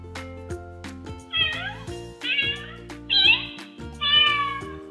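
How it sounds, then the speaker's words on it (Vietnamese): Recorded cat meows play from a button in an interactive children's sound book, four short repeated calls over background music. "khi mà trẻ ấn vào thì lại nghe một cái tiếng là meo meo"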